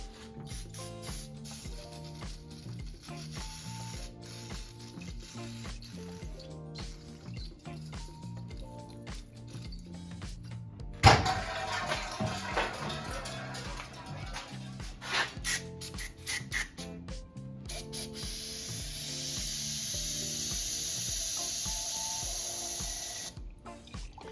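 Spray cleaner rinses an idle air control valve, a sharp hissing burst followed by a longer spray later, close, over a steady run of quiet mechanical clicking and no talking.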